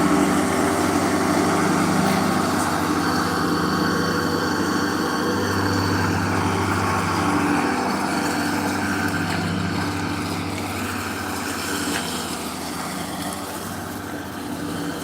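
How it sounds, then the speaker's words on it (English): Lawn mower engine running nearby at a steady drone with a constant low hum throughout, fairly loud and continuous, no talk. "never mind, he's not done mowing yet."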